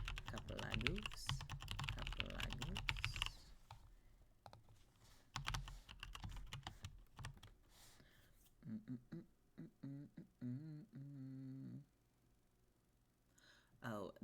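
Rapid keyboard typing during a body-doubling coworking stream, a burst of clacks near the start and more scattered tapping later, with a person talking over parts of it.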